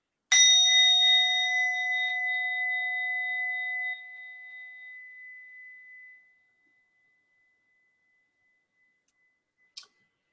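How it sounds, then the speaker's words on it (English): A meditation bell is rung once, giving a clear, sustained ringing tone with layered overtones that slowly fades over about six seconds, followed by silence and one faint click at the end. "and then I'll ring the bell"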